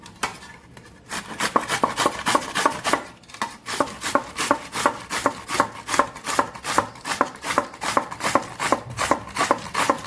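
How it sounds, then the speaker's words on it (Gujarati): Cucumber grated on a fine vegetable grater makes rapid, evenly spaced rasping strokes close up, keeping a steady rhythm after a brief pause. "ઝીણા શાકવાળી ખમણી હોય છે એની અંદર એમાં આપણે કાકડીને ખમણી લેવાની છે"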